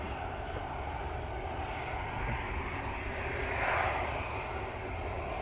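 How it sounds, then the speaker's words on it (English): Ryanair Boeing 737-800 jet arriving at Manchester Airport on a windy day, a broad continuous roar of engine and rushing air that swells slightly near the end, fairly distant, with no talk. "It's a Ryanair coming in from fake Brussels using the 737-800."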